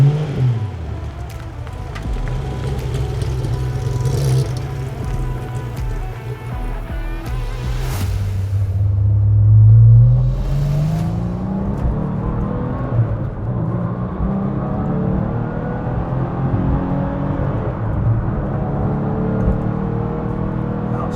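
Engine of a Gunther Werks car droning steadily from inside the cabin while driving, loud and continuous, with a swell and rising pitch sweep midway as it revs and shifts, then settling back into a sustained road roar.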